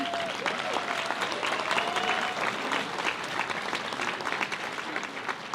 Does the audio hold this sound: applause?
yes